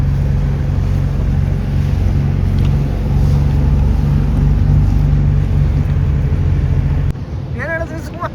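Boat engine drone and water rush during a ride past a fountain at Sharjah's New Year celebration, a steady loud rumble that continues under brief voices and shifts in tone near the end.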